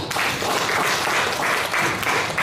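A crowd at a meeting of Indonesian radio operators applauds steadily, dense clapping filling the room at a fairly loud, even level throughout.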